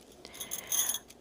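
Indian glass or metal bangles (chudiyan) jingle in a few soft, bright clinks and rattles, close up and quiet, with no talk.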